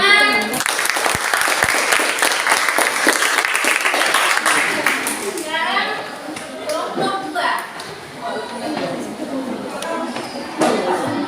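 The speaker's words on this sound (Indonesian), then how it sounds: "Ya, semua tepuk tangan." Students in a classroom applaud loudly for about five seconds, and then the clapping gives way to voices talking in the room.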